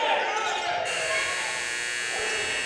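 Basketball bouncing on a gym court during a boys' high school championship game, a couple of dribbles heard amid crowd noise and a commentator's voice.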